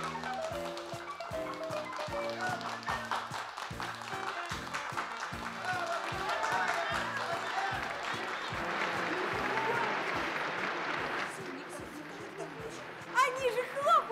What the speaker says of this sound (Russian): Они же хлопают нам, как сумасшедшие!